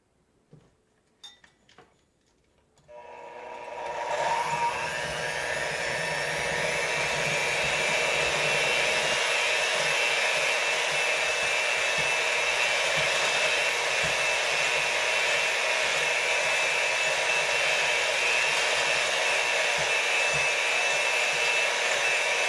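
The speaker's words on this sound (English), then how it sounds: "I'm going to start by creaming the butter and the sugar." An electric hand mixer creams butter and sugar for red velvet cupcakes, starting with a few soft clicks and handling sounds before the motor whirs up into a loud, steady, unbroken drone that runs close and continuous to the end.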